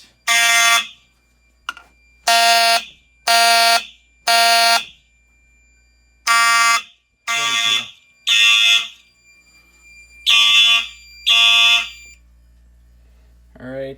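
A home fire alarm system sounds after a pull station is activated, a loud electronic horn blasting in repeated bursts of roughly half a second with short gaps, and a voice speaks briefly between blasts.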